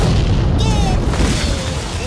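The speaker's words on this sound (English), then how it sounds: "I'm gonna blow up all of my opponent's stuff." A loud, sustained boom rolls out as a Hearthstone card's explosion effect blows up the opponent's board in the video game, a dense rumbling blast that fills the whole moment with no pauses.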